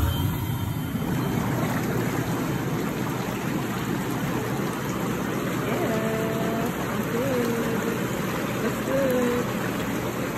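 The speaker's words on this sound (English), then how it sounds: "I'm gonna turn the bubbles on and see how warm this thing is." A Helsinki SaluSpa inflatable hot tub runs its bubble jets, making a constant rushing, bubbling wash of water at close range, with faint tonal squeaks partway through.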